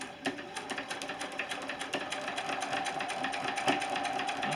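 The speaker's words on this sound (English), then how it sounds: "And I will finish stitching this" A sewing machine stitching rows of a pixel-style quilt runs in a fast, steady mechanical chatter, close and continuous with slight surges in pace, and no talking over it.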